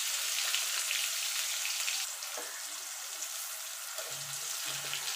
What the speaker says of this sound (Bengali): আলুতে দিয়ে দেবো নুন, হলুদ গুঁড়ো দিয়ে আলুটাকে আমি লাল লাল করে ভেজে নেব।